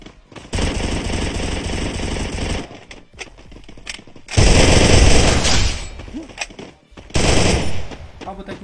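Free Fire video game gunfire comes in three loud bursts of rapid automatic shots, each lasting one to two seconds. Quieter gaps between the bursts carry faint game sounds.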